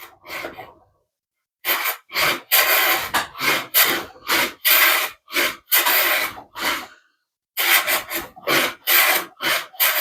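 Repeated strokes of a hand plane shooting the end grain of wood for cabinet joinery, close and loud, in bursts of quick rasping passes with short gaps between strokes and a longer pause midway.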